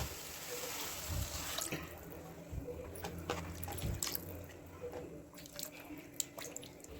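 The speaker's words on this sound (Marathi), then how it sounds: "आपण लागेल तेवढं पाणी घालूया" Water is poured into a pan of matki bhaji cooking with oil and moth beans, a quiet, uneven splashing and trickling with small drips and squishy bubbling near at hand.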